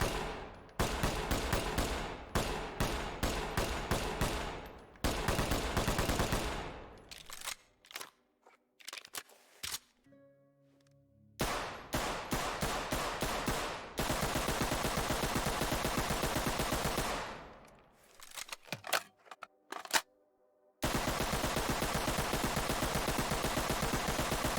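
A modded RPD machine gun firing in the tactical shooter Ready or Not, loud rapid automatic bursts of varying length separated by short pauses and brief quieter gaps, close and dominant.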